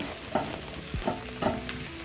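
Sausage-and-rice stir fry of onions with salt, pepper and paprika being stirred in a frying pan, giving soft scraping strokes over a faint low sizzle, close by and with no talking.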